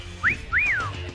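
A person whistles two quick sliding notes, a short upward chirp and then a longer rising-and-falling tone, clear and close.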